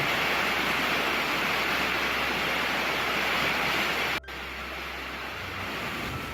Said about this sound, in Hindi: क्या झरना है, मतलब यार इतना शुद्ध पानी भी हो सकता है